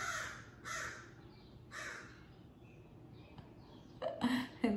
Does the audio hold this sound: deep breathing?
no